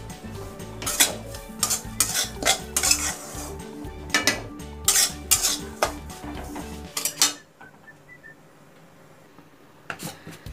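Dry fruits are roasted and stirred in a pan, with busy clattering and scraping of a metal spoon against the pan for about seven seconds, then near quiet with a final faint clink.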